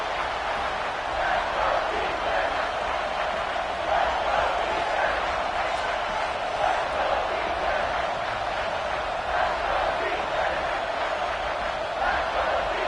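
A football stadium crowd at a Red Raiders conference championship game roars steadily through a third-down play, a broad sustained cheer with small swells and no break.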